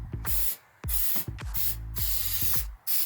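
Black spray paint applied to a repaired cracked mini bike frame, heard as four or five short, loud, close hissing bursts separated by brief pauses.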